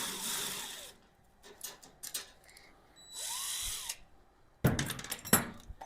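Power tool unscrewing parts while unboxing a Venom Thunder 125 bike, heard as several short whirring bursts with pauses and clatter between them.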